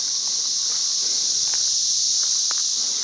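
Loud cicadas droning along a bike trail, a piercing, continuous high-pitched buzz that holds steady throughout, with a few faint clicks and rustles underneath.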